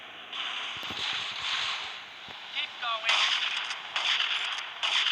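Shotgun fire in GTA Vice City during a mission to steal a tank from soldiers, several sharp blasts against a steady roar of game background noise, with a couple of louder bursts near the end.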